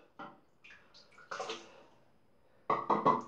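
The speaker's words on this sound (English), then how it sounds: "There goes most of my lather, straight in a sink of water." Shaving lather dropping into a sink of water, a few soft separate splashes and sloshes, quiet and close, spaced irregularly with a small cluster of wet plops near the end.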